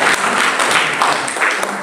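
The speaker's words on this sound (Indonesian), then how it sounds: "berikan tepuk tangan yang bernyanyi" A church congregation applauds in a dense, steady wash of clapping that holds for about two seconds, loud and close, with no voices standing out.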